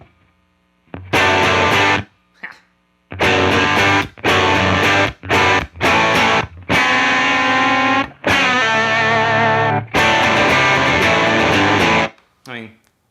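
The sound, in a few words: Telecaster electric guitar through Fender Bassman amp, bright switch on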